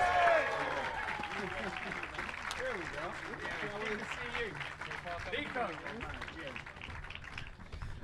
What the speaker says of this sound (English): can you start your cheering? Can you start your clapping? Can you start your roaring?